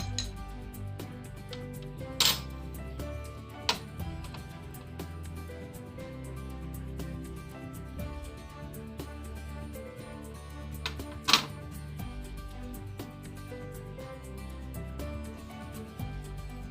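A spoon stirs sugar into water in a drinking glass, giving a few sharp, bright clinks over a steady low background sound.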